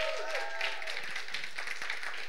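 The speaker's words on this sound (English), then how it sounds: "please hoot, holler, clap for yourself" A live audience at an evening talk on a rainy Wednesday claps, hoots and whistles in a steady, lively burst that continues throughout.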